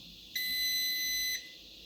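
A single steady electronic beep from an air fryer holds for about a second, shrill and clear against a quiet room.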